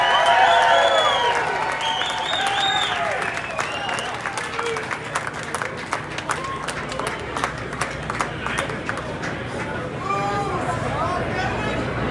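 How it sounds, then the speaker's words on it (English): A crowd at a shrimp cocktail eating contest breaks into sustained applause with some cheering and babble, while voices rise over the clapping at the start and again near the end. "How about a round of applause for all our contestants?"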